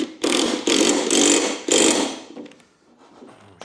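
Short bursts of ratcheting from a wrench tightening a bolt on an old ride-on mower, four quick clicking pulls close by, then a pause with faint handling noise.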